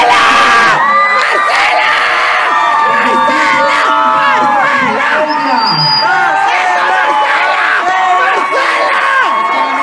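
A large crowd cheers and shouts loudly throughout at a 2016 school beauty pageant crowning, with high-pitched screams and whoops overlapping in a constant roar.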